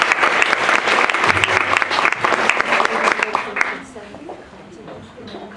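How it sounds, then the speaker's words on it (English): An audience at a luncheon panel on gender issues in global migration claps in dense, sustained applause that stays strong for about four seconds, then thins and fades as a voice carries on. "I'd like to give a round of applause to the entire panel."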